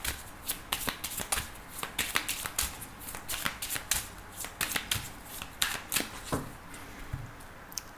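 Oracle and tarot cards being shuffled by hand, a steady run of crisp riffling snaps and flutters at close range with no voices.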